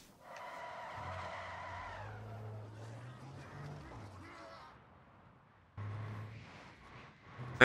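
Car engine revving and tires skidding in a Christmas-themed video game, a loud sustained motor drone with screeching slides that fades and returns in a second burst near the end, with a voice speaking over it.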